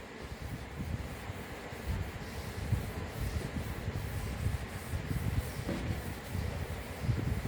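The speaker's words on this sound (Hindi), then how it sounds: "अब मैं इनको रब कर रही हूँ" A duster rubs chalk off a classroom blackboard in steady, continuous scrubbing strokes, close and moderately loud, with no talking over it.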